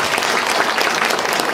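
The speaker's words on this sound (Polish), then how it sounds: "Proszę o gorące brawa." A concert audience at a sea shanty festival in Włoszczowa gives loud, dense, continuous applause from many hands, close and without pauses.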